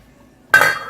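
A lid is set onto a pot of plantains boiling on the stove, a single close metallic clank with a short ringing clatter after quiet.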